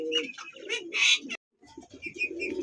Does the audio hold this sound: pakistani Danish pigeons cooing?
yes